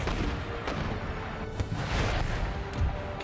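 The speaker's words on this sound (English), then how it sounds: "howitzers fire onto troops in the town" Howitzer artillery fires on troops in a town during a battle in Empire: Total War, with dense, continuous rumbling booms. Several sharper shots stand out over a loud, sustained battle din.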